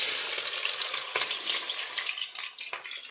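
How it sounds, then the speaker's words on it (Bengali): Onions drop into hot oil and fry with a bright, dense sizzle, close and steady, broken by a few sharp crackles and stirring scrapes, with no one talking. "তেলটা হয়ে গেছে, এবার পেঁয়াজগুলো দিয়ে দিই।"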